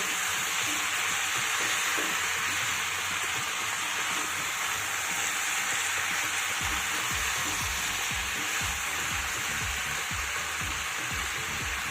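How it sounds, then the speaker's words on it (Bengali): Vegetables for a Malabar spinach curry sautéing in a hot pan, giving a constant close frying hiss, with stirring knocks and scrapes growing busier in the second half and no voices. "এবার সবটা আরও এক দেড় মিনিট কষিয়ে নিতে হবে"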